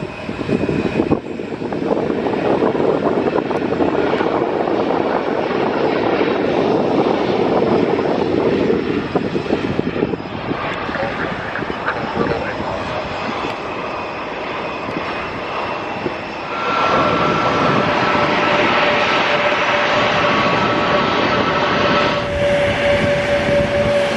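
A small private jet flies overhead near Luton Airport on a summer evening, a loud, steady broadband engine roar that holds for the whole stretch, its tone shifting partway through as the aircraft passes, with no talk.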